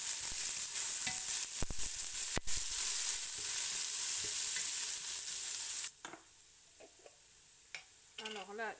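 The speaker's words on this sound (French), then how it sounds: "J'y rajoute l'ail haché ainsi que la branche de céleri." Chopped garlic and a celery stalk frying in a pan for vegetarian lentils, a bright steady sizzle with a few stirring knocks that drops suddenly to a quieter hiss partway through, followed by faint talk.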